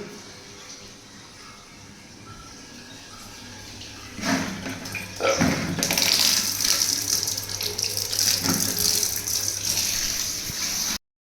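Water runs from a tap in a bathroom, a quiet trickle that bursts into a loud, steady gushing stream after a few seconds and fills the space until it abruptly stops.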